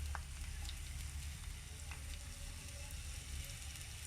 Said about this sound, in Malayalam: നമുക്കിതിലേക്ക് ആവശ്യമായിട്ടുള്ള വെളിച്ചെണ്ണ ഒഴിച്ചു കൊടുക്കാം